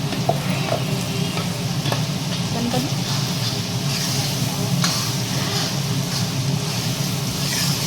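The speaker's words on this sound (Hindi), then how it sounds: "इसमें तड़का लगाती हूँ फटाफट" Chili and garlic fry in hot oil for a tadka while cooking dubke, a steady close sizzle with light stirring clicks running throughout.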